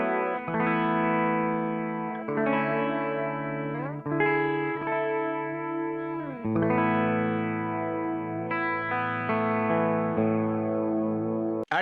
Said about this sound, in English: So that's the phaser.